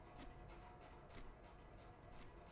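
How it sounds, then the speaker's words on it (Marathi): A clock ticks steadily in a quiet room with a fan running, the faint regular ticks sitting over a constant low background hum. "त्या घड्याळाचा येतो आवाज"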